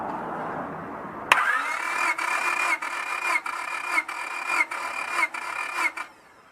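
Car engine cranking over on the starter during a compression test on cylinder 4 of an engine with very low compression; a loud, close whirring crank with an evenly pulsing rhythm of about seven beats, running alone for several seconds before cutting off.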